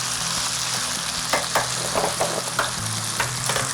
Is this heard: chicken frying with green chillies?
yes